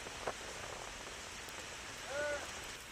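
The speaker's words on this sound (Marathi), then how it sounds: "मुसळधार पाऊस पडतो आहे" Heavy rain falls on the Solapur-Akkalkot highway, a steady faint wash of drops with no breaks, heard from a distance with a few small bird-like chirps.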